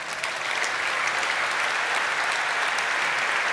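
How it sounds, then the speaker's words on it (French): Dense, steady audience applause fills a chamber of commerce leadership handover ceremony, sustained at an even level for the whole stretch with no voices over it. "On peut applaudir Michel Grignard."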